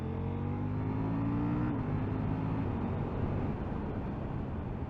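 A 2022 KTM 890 Duke motorcycle accelerating in third gear, its engine drone rising steadily before a brief dip at a gear change, then continuing as a dense, loud roar under wind noise, with no talking.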